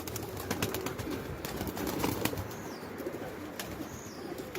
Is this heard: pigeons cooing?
yes